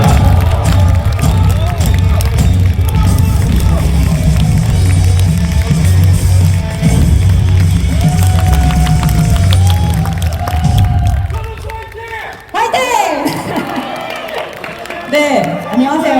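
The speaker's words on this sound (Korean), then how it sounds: "큰 박수와 함성으로 맞아주십시오" A large crowd cheers and applauds loudly at a Democratic Party political rally in Ulsan, greeting a newly recruited lawyer with a dense, sustained roar over deep rumbling for about eleven seconds before it cuts away and a voice speaks.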